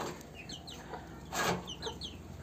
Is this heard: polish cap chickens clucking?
yes